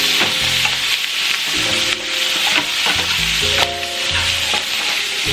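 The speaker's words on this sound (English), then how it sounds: "so I'm just going to toss it in the butter." Already cooked lobster tail sizzles steadily in hot butter in a pan, a loud, close, continuous frying hiss with faint stirring and clinks and no talking.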